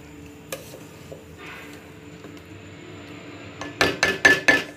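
Rice kheer is stirred in a pot after sugar is added, giving faint soft scraping at first, then a quick run of four sharp metallic clinks of the spoon against the pot at the end.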